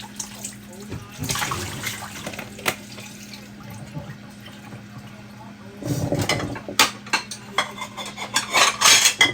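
Smelly summer clothes washed by hand in a basin of water, with sloshing, splashing and wringing sounds in uneven bursts, a voice speaking at times over the washing.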